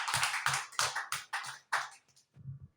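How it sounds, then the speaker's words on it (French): Congregation clapping together during a church service: a steady series of sharp, fairly close hand claps in a regular beat, briefly thinning before a few softer claps at the end. "Applaudis pour le Seigneur."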